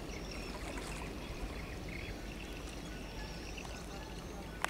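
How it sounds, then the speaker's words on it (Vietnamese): Churning waves roar steadily behind a container ship, heard from a small boat alongside as a continuous wash of rushing water with no voices. "sóng ở phía sau là nó đang ầm luôn đó các bạn."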